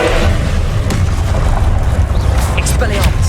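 Loud booming Confringo fire-spell explosion in Hogwarts Legacy, a heavy low rumble with crackling bursts and spell effects sustained over a few seconds.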